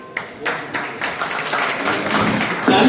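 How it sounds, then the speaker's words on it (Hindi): An audience claps at a Punjabi community gathering in Samalkha, a dense patter of many hands that swells steadily and grows louder toward the end, with no talking over it. "तालियों के आवाज थोड़ी कम नहीं है।"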